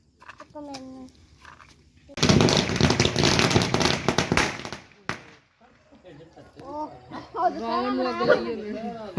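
A rapid burst of firecrackers crackles and pops loudly for a few seconds at a Dussehra celebration, followed by a single sharp bang, with people talking before and after.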